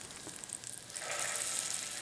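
A fish fillet fries in a pan with a steady, close sizzle that grows louder and denser about halfway through, with no talking.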